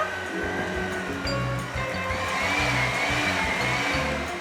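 Flour and eggs being mixed together in a bowl for a home-cooked dinner, a steady continuous whisking and scraping that runs the whole time at a fairly even loudness.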